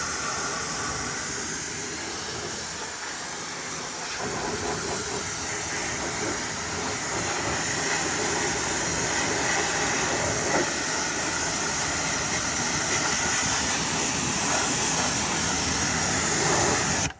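A pressure washer rinses a car wheel well, giving a loud, steady hissing spray that runs unbroken and grows slightly stronger toward the end, with no talking.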